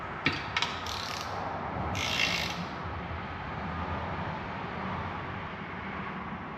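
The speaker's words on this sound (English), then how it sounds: "Then we're going to tighten bolt 10, which is the long one" A ratchet wrench tightens a long head bolt to torque on a 2013-2014 Ford F-150 3.5 EcoBoost engine build, with a few quick close clicks at the start, then a steady mechanical hum. No voices.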